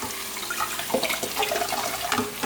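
Tap water runs steadily while rice is rinsed in a kitchen, with soft splashing and a few brief drips close by, no voices.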